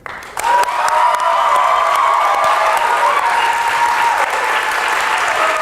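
A debate audience breaks into sustained applause for a speaker, a dense, even wash of many hands clapping that swells quickly and holds loud, with faint cheering.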